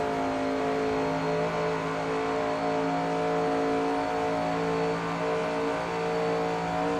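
Engines of vintage sportscars racing at classic Spa Francorchamps in Assetto Corsa drone with a steady, buzzing, harmonic hum that holds evenly throughout, moderately loud with no talk.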